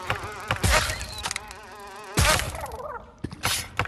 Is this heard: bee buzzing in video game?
yes